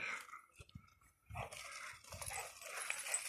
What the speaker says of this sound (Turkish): Köpeğin saldıracağını söylüyor arkadaş